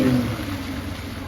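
A 2005 Mercedes CL500 (W215) V8 engine rumbles steadily at low pitch, loudest at the start and then settling into an even idle-like drone.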